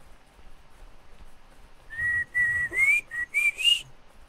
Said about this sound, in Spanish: ¿Qué pasa si silbas al micro nuevo?